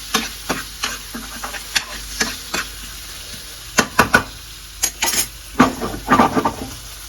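Stuffed bitter gourd frying in a pan for a masala fry, with a series of scraping stir strokes and knocks over a soft background sizzle, louder clustered strokes near the end.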